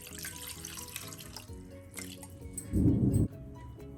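A tumbler of water is poured over mutton liver in a pan for a pepper fry. The pour is a brief splash of about half a second that rises over quiet kitchen background noise.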